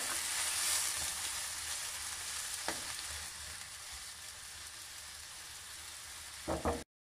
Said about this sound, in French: Et je vais laisser le tout porter à ébullition